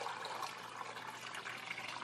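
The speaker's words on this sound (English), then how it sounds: "put some warm water over the top" Warm water pours into a dirty pan over denture tablets, a steady close splashing trickle lasting two seconds with no pauses.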